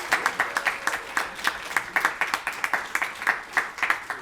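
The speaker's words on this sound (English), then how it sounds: "Can we get a round of applause for GSTU?" An audience at a datathon awards ceremony claps for a team, producing moderate, even applause of distinct overlapping claps that keeps a steady patter, sounding a little distant and thin.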